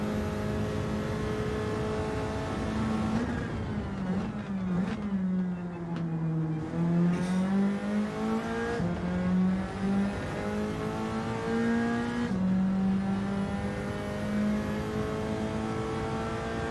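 Race car in Gran Turismo 7 accelerating through the gears of a daily race, a loud continuous engine drone with rising pitch sweeps and gear-change dips, steady and close throughout.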